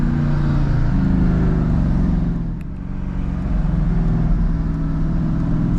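Tuned 2017 Mercedes-AMG GT with upgraded turbos pulling hard in third gear, a loud, steady, close engine roar that builds smoothly, with a brief dip midway before climbing again.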